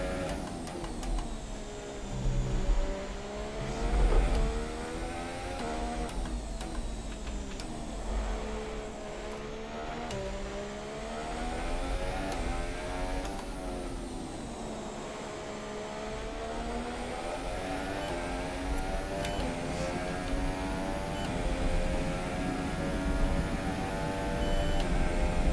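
A Haas Formula 1 car in the racing game F1 2017 on the Hungarian circuit, its engine note rising and falling through a steady run of rapid downshifts and revs, droning continuously with no talk over it.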